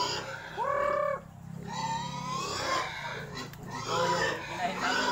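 Several farm chickens cluck and squawk in a series of calls, with a pig-like grunting voice mixed in, close by and fairly quiet.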